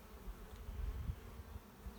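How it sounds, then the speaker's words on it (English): Honeybees hum around a busy two-box beehive on a morning walk, a soft, wavering drone close by with individual bees buzzing louder as they pass, no talking. "It's got more bees in it than that other one"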